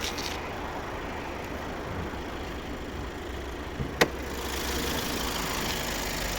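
A steady low diesel engine idle from a Skoda Kodiaq 2.0 TDI rumbles continuously at close range, with one brief sharp click partway through.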